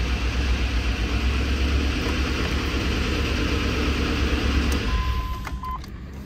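A Land Rover Discovery engine runs with a steady low rumble and broadband roar, loud and continuous, easing slightly near the end.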